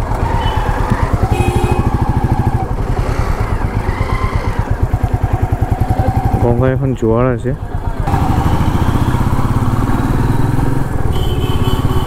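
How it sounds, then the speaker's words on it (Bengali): Motorcycles are ridden past on a road near Burul outside Kolkata, a steady close engine drone running throughout under a person talking. "এখানে কীভাবে বাইকগুলো চালাচ্ছে দেখতে পাচ্ছ"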